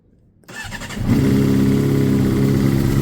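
A motorcycle engine cranks briefly, then catches and settles into a loud, steady idle rumble close by.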